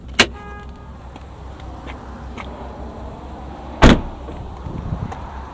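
The trunk of a 2010 BMW 128i Coupe releases, giving a sharp click near the start and a louder thunk of the lid popping a few seconds later, with faint shuffling in between.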